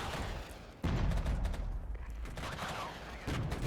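Massed volleys of gunfire from units in the war game Regiments crackle in a dense, continuous fusillade with sharper bursts near the start, middle and end, loud and close throughout.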